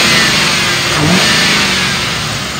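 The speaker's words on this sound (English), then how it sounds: "I can rev this one up right here." A 2004 Ford Crown Victoria Police Interceptor engine revs loud and close, its droning roar swelling briefly and easing back, with no talk over it.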